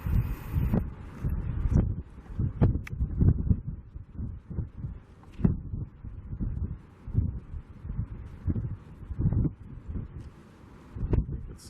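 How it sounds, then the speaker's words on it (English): Strong wind gusts buffet the microphone outdoors near a Las Vegas construction site, a loud, steady low rumble with irregular thumps and rustling throughout and no speech. "You can see how windy it is today."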